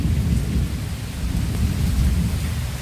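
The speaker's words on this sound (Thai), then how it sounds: "คลิปนี้ก็มาชมบรรยากาศฝนตกช่วงคำคำกันนะครับ" Steady evening rain pours over a village, with low rumbles of thunder rolling continuously beneath the hiss of the downpour, loud and close throughout.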